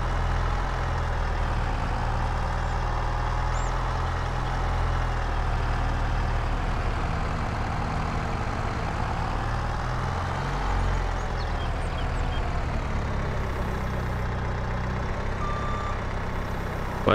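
Forklift in a video game idling with a steady low engine drone, a repeating reversing beeper sounding over it throughout, close and continuous.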